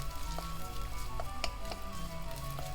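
Garlic and green onions frying in a pan give a steady close sizzle, broken by light scraping taps as they are stirred.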